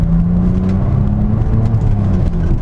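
Saab 9-3 Turbo X engine pulling under acceleration with a small turbo spooling, a steady loud in-cabin drone with rising harmonic tones and a constant rumble throughout.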